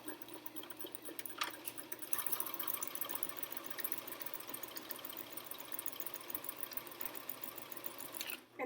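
A sewing machine stitching a pee pad, its rapid, even mechanical chatter running continuously and close by, then stopping abruptly at the end, with no talking.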